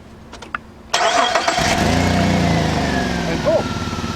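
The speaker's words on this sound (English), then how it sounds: "And boom, your vehicle is started" A car engine cranks and catches after a jump start from a portable jump starter pack: a few quiet clicks, then a loud whirring crank that settles into a steady close idle.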